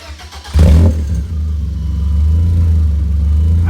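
A BMW E36 four-cylinder fitted with a cheap custom exhaust cranks and fires, settling into a loud, steady, deep idle that grows slightly fuller, recorded up close with no talking.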